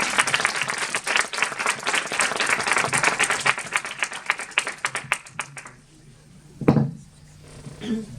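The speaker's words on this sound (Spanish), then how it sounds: "para presentar a Ruy Núñez, a quien recibimos con un aplauso" Audience applause welcoming a speaker at a university doctoral and master's lecture, dense clapping for about five seconds that thins to scattered claps and fades, followed by a brief knock.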